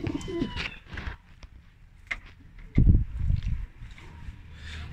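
Pigeons coo softly in low, throaty bursts, with a few brief chirps and light shuffling noises around them.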